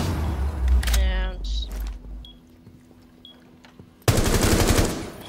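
Shotgun pellets blast a window in Rainbow Six Siege, a sharp rattling burst early on, a quiet gap with faint clicks, then a second loud burst near the end, with a voice talking.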